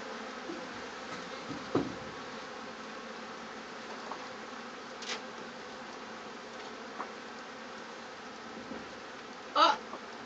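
Honeybees at a beehive make a steady, moderately faint droning buzz that persists throughout, with a few brief louder passes and small knocks.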